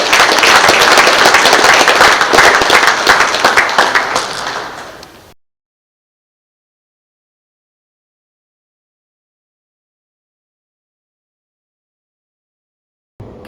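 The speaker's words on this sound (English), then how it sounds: "Big round of applause for the defensive All-912 team" Loud, dense applause from a gathered crowd at a local sports awards broadcast honoring an all-star defensive football team, sustained for about five seconds before fading into silence.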